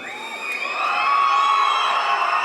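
A large crowd at a film pre-release event cheers, whistles and claps, a loud dense roar with shrill whistles that swells and holds steady.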